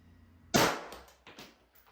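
A single sharp shot from a Daniel Defense MK12 rifle fired at a target, a loud crack followed by a decaying echo and a fainter second report.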